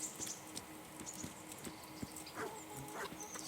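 A horse in the medieval video game Kingdom Come: Deliverance clip-clops softly with scattered hoof thuds and faint snorts, quiet and fairly close amid light background ambience.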